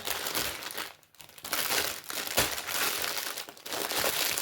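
Loud, close crinkling of paper packaging being handled and stuffed, continuous rustling with a brief pause near the start.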